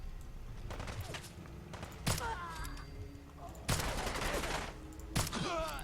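Suppressed shots from an RSh-12 assault revolver in the video game Fallout 4: three sharp, muffled bursts spaced a second or more apart over a low ambient game bed, with brief echoing tails.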